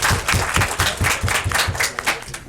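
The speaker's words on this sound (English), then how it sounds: "Can we have a round of applause?" A small room of people at a school quiz competition claps briefly and unevenly for a newly introduced player, a thin rhythmic patter lasting a couple of seconds.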